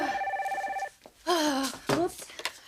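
A telephone rings in an office setting of a 1995 TV soap, a steady electronic trill at the start that stops, followed by overlapping voices talking loudly.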